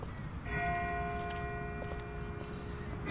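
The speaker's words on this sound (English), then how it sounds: "That's not the same bell as before. This one's further off." A distant church-style bell tolls steadily in The Walking Dead video game, a sustained ringing tone heard far off over a low ambient rumble, with no talking.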